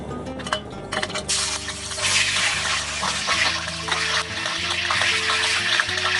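Half a kilogram of chicken dropped into half a cup of oil heated over a low flame in a pan, giving a steady, broad sizzle and hiss that builds and holds, with faint clinks of utensils.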